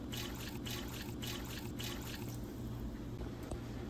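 Water pours steadily into a cooking pot for a medieval pottage, a faint continuous trickling and splashing heard alone.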